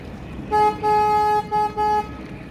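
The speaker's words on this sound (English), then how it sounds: "Oh, I love honking the horn." A tour boat horn honks in four short blasts, the second one longer, loud and steady-pitched over a low background rumble.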